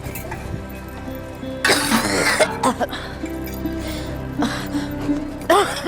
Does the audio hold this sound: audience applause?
no